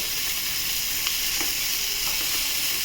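Garlic, ginger, onion, carrots and beans fry on low heat for chicken soup, giving a steady, even sizzle up close with faint scraping of stirring underneath.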